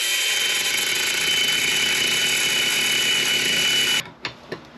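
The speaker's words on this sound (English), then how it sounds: "all we really need to do is just a diagonal cut with a grinder" A grinder makes a diagonal cut on a wheel hub of a 2004 Honda CR-V: a loud, steady high whine runs for about four seconds, then cuts off, followed by a couple of light knocks.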